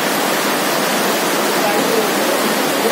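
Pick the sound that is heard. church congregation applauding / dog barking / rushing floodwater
rushing floodwater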